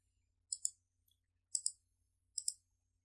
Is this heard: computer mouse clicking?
yes